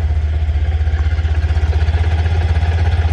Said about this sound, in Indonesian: Kita dengerin juga suara mesinnya si Beat.